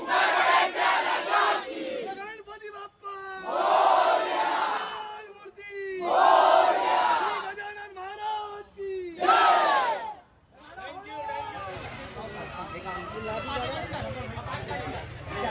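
A dense crowd chants in loud rhythmic bursts at a Maghi Ganpati procession in Mumbai, call-and-response shouts rising and falling with short gaps, followed by continuous hubbub.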